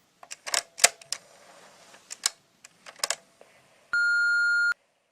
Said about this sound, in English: This voicemail sucks, Jinx.